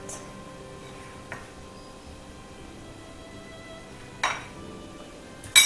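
Glass noodles being mixed with salt in a bowl: a few faint, sparse clinks of a utensil against the dish over a quiet kitchen background.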